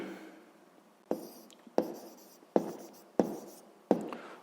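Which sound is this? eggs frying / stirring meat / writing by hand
writing by hand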